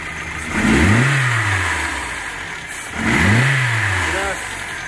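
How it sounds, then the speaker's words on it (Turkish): Two throttle blips from a Renault Megane 1 2.0 engine that burns oil, each a quick rising rev that falls back to idle. Close and loud, with no voices over it. "Gaz ver, bırak."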